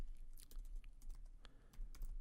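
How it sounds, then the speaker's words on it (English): Fingers type code on a computer keyboard in quick, uneven bursts of close clicking keystrokes, with no one speaking. "So I just need to type in here"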